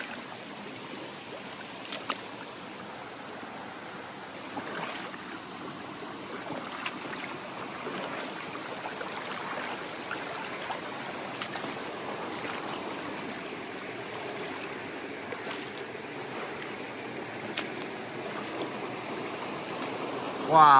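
Footsteps wade up a shallow, boulder-strewn stream toward a sluice gate, water sloshing and splashing steadily around the legs over continuous flowing water, close and moderately loud throughout.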